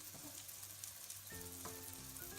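Syrniki, cottage cheese pancakes, sizzling in oil in a frying pan, a steady close crackle and hiss with small pops, with faint tonal clinks joining midway.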